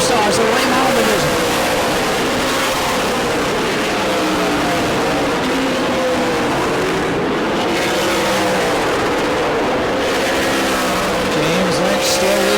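Late model stock cars race side by side at New Smyrna, their engines roaring in a loud, steady, wavering drone with a hint of tire noise, while a commentator talks over the top throughout.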